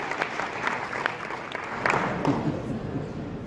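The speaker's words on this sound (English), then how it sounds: "one guy starts clapping, everybody starts clapping" A live audience breaks into steady applause that swells slightly toward the middle and carries on to the end, with a faint voice now and then underneath the clapping.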